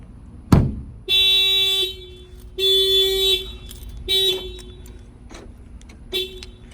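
A factory-installed car alarm blares in repeated loud bursts of tonal wailing, broken by short pauses, after a sharp bang on the car at the start.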